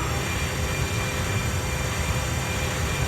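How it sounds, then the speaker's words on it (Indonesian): A burning airplane engine on reduced thrust in a flight video game gives a steady, loud, dense roar that continues evenly throughout, with no voices. "ini pesawatnya mesinnya sudah terbakar dengan tenaga dorong udah aku kurangi itu"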